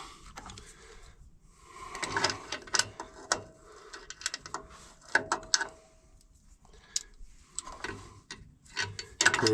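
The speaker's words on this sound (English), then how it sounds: "Of course, I got the ratchet turned the wrong way." Ratchet wrench clicking in short bursts while removing bolts during a water pump replacement on an International 4366 tractor, close up and moderately quiet, with metallic ticks and clanks between pauses.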